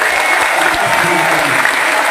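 A large crowd at an outdoor political rally claps continuously and evenly, dense applause filling the whole stretch with some faint voices mixed in.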